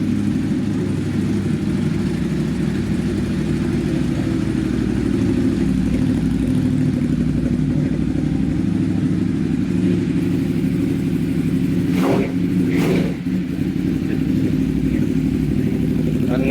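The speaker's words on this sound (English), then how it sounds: "A nice sounding machine like ever. The grunt of a Ducati." A Ducati motorcycle engine runs at a steady, loud, deep grunting idle throughout, with a couple of quick rev blips near the end.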